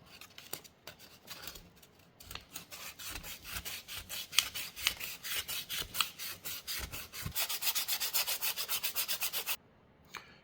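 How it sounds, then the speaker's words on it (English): Sandpaper rubs back and forth along a fishing rod blank during a rod repair, a steady run of rapid, rhythmic rasping strokes heard up close that grow quicker and louder before stopping abruptly. "It looks like I've got the rod sanded perfectly like I would like."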